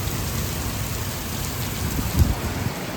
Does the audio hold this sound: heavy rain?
yes